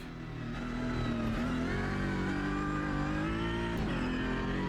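Race car engine in the Automobilista 2 sim racing game, a steady loud drone with rising and falling pitch as it drives through a lap, shifting gears continuously with no talk.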